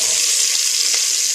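Chopped onion goes into a pan of hot oil and butter, giving a close, steady sizzle with a hissy, frying texture and no speech.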